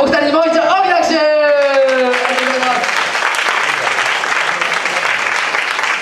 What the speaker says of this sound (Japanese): じゃあお二人にもう一度大きな拍手。